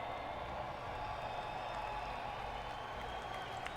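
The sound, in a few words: crowd cheering and applauding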